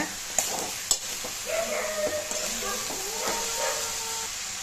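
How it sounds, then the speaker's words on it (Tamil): Amaranth greens sautéed in oil over a high flame give a steady, close sizzle with intermittent spatula scrapes and stirring clatter, plus a couple of sharp knocks early on. "நல்லா ஹை ஃப்ளேம்லேயே வச்சு வதக்கிக்கிட்டே இருங்க."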